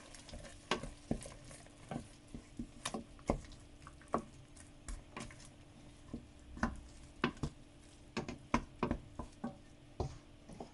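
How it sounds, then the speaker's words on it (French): A parsley and celery mixture is stirred into browned meat in a pot of Moroccan harira soup, with steady sizzling under irregular scraping and ticking spoon strokes, close and moderately loud, without talk. "Le mélange de persil et de céleri. On va mélanger."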